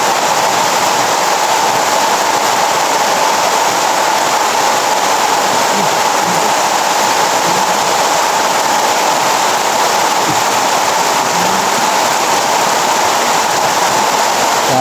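Heavy rain pouring down steadily near a large tree, a dense continuous hiss that stays loud and unbroken from start to end.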